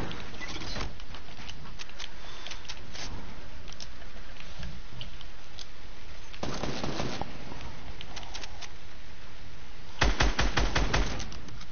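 Assault rifle fire in a video game: short rapid bursts and scattered single shots crack through a continuous noisy background, with a dense loud burst near the end.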